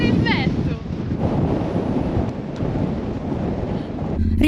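Strong wind buffets a microphone on an exposed roadside near Rio Gallegos in southern Argentina, a loud continuous low roar with gusts, broken by a brief faint squeak.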